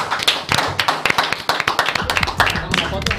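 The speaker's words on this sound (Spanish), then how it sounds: "este aplauso es para vos" A studio audience on an Argentine variety show claps for a guest. The clapping is sharp and uneven, close by and irregular, with voices talking and calling out over it.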